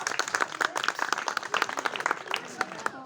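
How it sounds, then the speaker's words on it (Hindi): A crowd claps loudly for a group at a public agricultural department gathering, dense irregular clapping filling the whole span, with some voices mixed in. "एक बार जोरदार ताली हो जाए इन लोगों के लिए"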